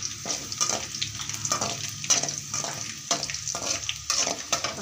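Curry leaves crackle and fry in hot oil in a home kitchen pan while fish curry is cooked, giving a steady close sizzle with bursts of spattering and stirring throughout.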